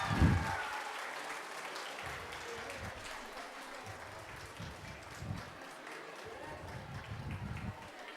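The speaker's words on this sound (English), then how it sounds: "Big round of applause." Applause from an audience at a school awards ceremony, steady clapping over the whole stretch, with crowd murmur and voices mixed in beneath it.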